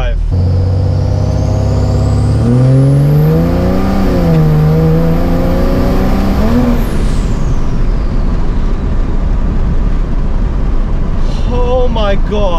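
A four-wheel-drive vehicle in a performance mode launches hard from 0 to 60, its engine climbing through rising gear sweeps for several seconds at close range, then easing off into road and wind noise as a voice speaks over it.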